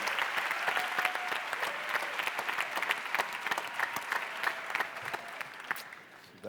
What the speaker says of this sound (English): thank you very much for the warm applause